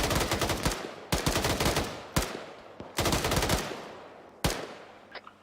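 Heavy automatic fire from an AGS grenade launcher mounted on a technical in the game Squad, with several loud, sharp bursts of rapid shots a second or so apart, each trailing into a short echoing decay.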